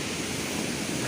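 A natural waterfall roars at its topmost point, a loud steady broadband rush of falling water filling the air with no pauses and no voices.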